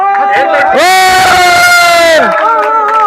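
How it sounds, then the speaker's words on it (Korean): A crowd at a historical theme park cheers loudly, a big sustained group shout that swells and holds for over a second before falling away, with scattered voices and some clapping around it. "박수 치실 때는요, 함성을 같이 해야"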